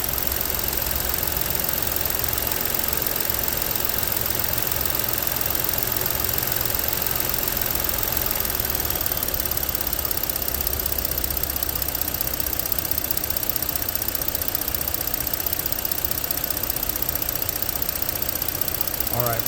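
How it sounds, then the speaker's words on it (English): A 2015 Ford Explorer Police Interceptor Utility idles steadily, a loud continuous engine hum with a faint knocking texture that stays unchanged and uninterrupted throughout. "now I'm going to be quiet so you can actually hear the engine at idle"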